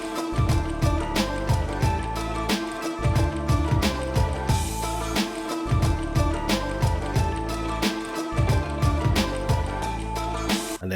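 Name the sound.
sampled beat breakdown with added second bass line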